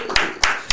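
A few separated claps ring out from an audience at a talk-show style event, three short sharp bursts spaced roughly evenly, close and fairly loud.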